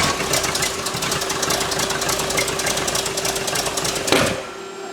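A freshly rebuilt car engine, one that had metal in its oil, cranks and runs roughly, knocking steadily and loud throughout, then cuts off abruptly near the end.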